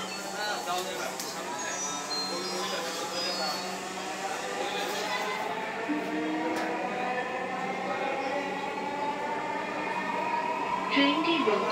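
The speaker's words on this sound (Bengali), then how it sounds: "ট্রেনটি আবার চলা শুরু করবে।" A Dhaka metro rail train pulls away from a station with a steady rising hum and whine of motors and wheels, continuous and moderately loud, with faint chatter from passengers aboard.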